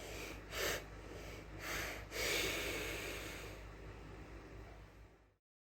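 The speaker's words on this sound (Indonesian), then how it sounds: "kemudian menarik napas dalam, lalu secara perlahan kemudian hembuskan seperti ini" Deep, noisy breath drawn in and then let out slowly during a breathing demonstration for respiration testing, close to the mic and alone, with a few sharp sniff-like bursts early on before a long fading exhale.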